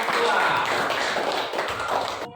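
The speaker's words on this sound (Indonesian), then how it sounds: "Tepuk tangan untuk kelompok" A classroom group clapping for a presenting group, brisk dense claps at close range for a couple of seconds before cutting off abruptly.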